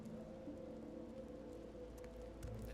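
Magical rain in the fantasy RPG Divinity Original Sin 2 falls as a soft, steady patter of drops over a low hum, quiet and even throughout with no voices.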